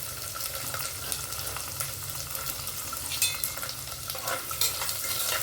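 Garlic and ginger pieces hit hot oil with cumin and asafoetida in a pan, producing a steady, close sizzle and crackle with occasional stirring scrapes throughout.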